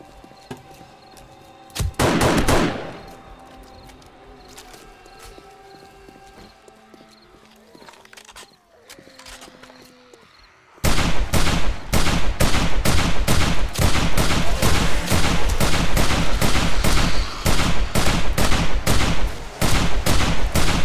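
Sustained rapid gunfire against a bloodmoon horde in a video game, loud close shots in a dense rhythmic stream that takes up the second half after quieter mixed game sounds.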